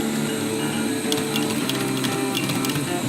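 A sewing machine stitching a folded surgical mask, a steady close mechanical whir with fast rhythmic needle clatter running the whole time, loud and alone.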